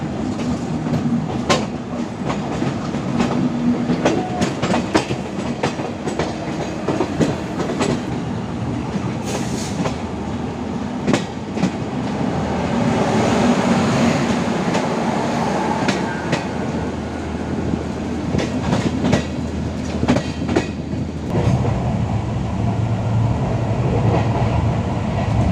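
The Shatabdi Express between Chennai and Salem rolls along at speed, with a continuous low rumble of carriages and rhythmic clicking of wheels over rail joints, loud and sustained.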